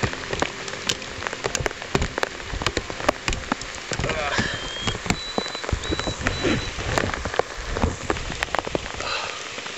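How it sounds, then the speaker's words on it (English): Heavy rain pours steadily onto a surface, a dense constant patter with scattered louder drops and splashes, close and loud throughout. "it's slowed down a little bit, but it's still a nice downpour"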